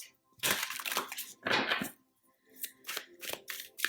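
A deck of tarot cards is shuffled by hand in a series of quick, crisp riffling bursts separated by brief pauses, close and fairly loud with no speech.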